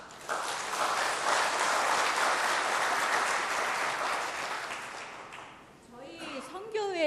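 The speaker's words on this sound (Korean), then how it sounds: "큰 박수로 한번." A church congregation at a women's mission society dedication service breaks into a big, dense round of applause that fills the room for several seconds, then tapers off as a voice begins speaking.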